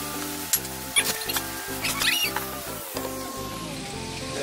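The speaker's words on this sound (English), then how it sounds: "Start off now by melting a little bit of that butter and adding in the garlic and herbs." Garlic and rosemary and thyme sizzling in melting butter in a pan, a close crackling fry with a few spatula taps and scrapes, and a rhythmic background beat underneath.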